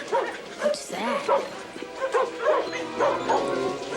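Several dogs yip, whimper and give short bow-wow barks in quick overlapping bursts, fairly close, with a voice talking over them.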